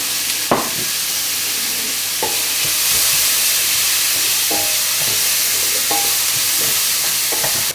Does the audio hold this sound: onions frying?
yes